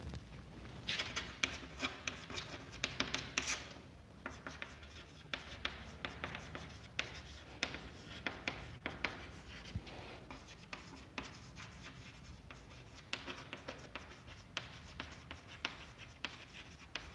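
Chalk or marker writing on a board during a maths lesson on square numbers, a long series of scratchy strokes and taps in irregular bursts, close and fairly faint, with no talking.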